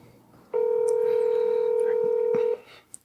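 An outgoing telephone call produces a single loud, steady electronic tone lasting about two seconds, standing alone against a quiet background before cutting off.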